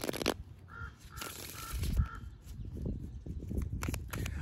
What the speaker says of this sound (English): here are more crows